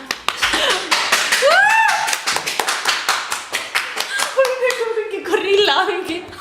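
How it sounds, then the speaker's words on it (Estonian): A few people at a Christmas gathering clap loosely in sharp, uneven slaps that go on for several seconds, mixed with lively voices, squeals and laughter close by. "Aplaus siis. Paluks."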